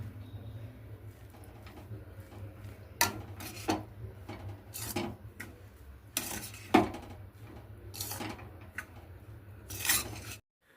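Potato rice with coriander leaves being stirred in a pan, a series of intermittent metal-on-pan scrapes and clinks over a low steady hum, fairly quiet and close.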